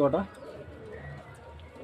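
Pure desi Giribaz pigeons, a Saharanpur and Teddy cross pair, give a short low coo near the start, then a softer murmur over a faint room hum.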